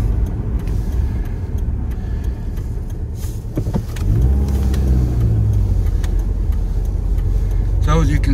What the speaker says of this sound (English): So as you can see, the street's full with cars.